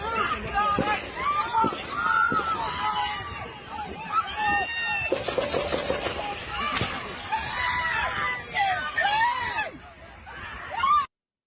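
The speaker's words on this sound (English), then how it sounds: "And a lot of screaming." Crowd screaming and shouting at a rally during an assassination attempt on Trump, dense panicked voices rising and falling continuously in a played-back recording, loud and busy throughout with overlapping cries.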